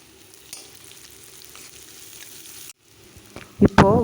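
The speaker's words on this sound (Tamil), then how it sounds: "உப்பு போட்டு நல்லா வதக்குனிங்கன்னா வெங்காயம் நல்லா வதங்கும்." Onions and grated white radish sautéing in oil with salt give a steady low sizzle for most of the stretch. A brief silence follows, then a few loud scraping stirs close by.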